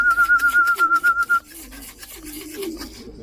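Racing pigeons returning to the loft, with a rapid rhythmic flutter of wingbeats up close, then soft cooing and shuffling.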